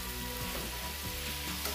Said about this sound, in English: This is where you get the term stir fry